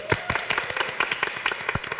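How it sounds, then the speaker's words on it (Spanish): Audience applause at the close of a Spanish-language marketing podcast episode, a brief burst of moderately loud, steady clapping from a small crowd with no talk over it. "Un aplauso, por favor."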